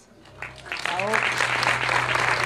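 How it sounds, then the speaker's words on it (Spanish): Applause breaks out at a film press conference as the director and producer walk in, starting quiet and swelling within a second into full, steady clapping, with a voice briefly audible near the start. "Un aplauso, chicos, ahí están entrando Bárbara y Andy"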